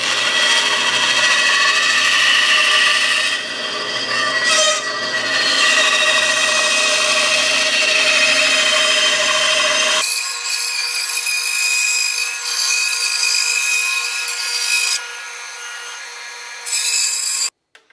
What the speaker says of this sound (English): The bandsaw blade is pushing the wood down.